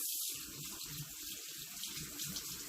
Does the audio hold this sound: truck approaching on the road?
no